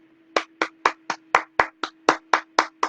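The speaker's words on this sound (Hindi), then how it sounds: "जोरदार तालियों के साथ" Audience at a business success meeting gives a short burst of hand claps, about a dozen evenly spaced sharp slaps over a faint steady hum, close and moderately loud, no talking.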